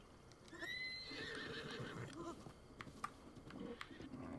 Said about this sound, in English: Let's go for this horse.